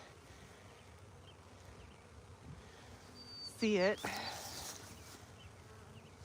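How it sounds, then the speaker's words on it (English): A honeybee swarm clustered at a farm hums in a low buzzing drone, swelling briefly louder near the middle, while a person talks over it. "I think you guys can see the cluster of bees that is down there."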